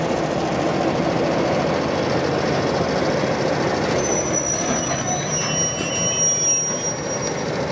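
A V/Line N set passenger train running toward Geelong gives a steady, loud rumble of wheels on rail throughout, with thin high wheel squeal surfacing in the second half and no talking.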